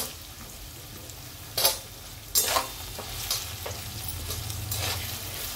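Potatoes sauté in a hot oiled pan with garlic-ginger paste for vegetable biryani, a steady sizzle broken by a few sharp scraping stirs near the start, then a louder, fuller fry toward the end.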